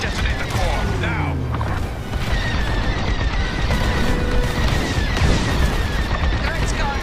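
Core detonation in the Star Wars: Squadrons space combat game: a loud, sustained roar of booming blasts and rumbling fire, with laser streaks and sweeping tones layered over it throughout.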